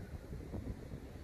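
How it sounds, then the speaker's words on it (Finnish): Strong wind rumbles against the microphone in low, muffled gusts while a BMW X5 xDrive45e is being charged, fairly quiet and continuous, with no voices. "hirveä tuuli."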